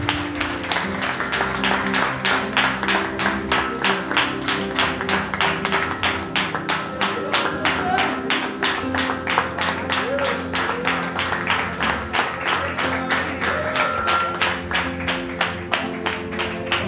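A church congregation at an evangelical service claps together in a long, dense run of applause that carries on over sustained musical tones, with rhythmic patter heard steadily throughout.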